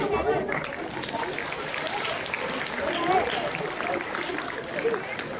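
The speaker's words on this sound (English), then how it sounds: "Please give him a big round of applause." Audience applause at an inter-house school debate competition, a steady wash of clapping running throughout with a voice talking over it.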